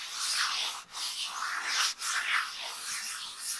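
Abrasive grit rubbing over a cast iron skillet in steady back-and-forth strokes, a hissing, scratchy sanding sound with brief pauses between passes.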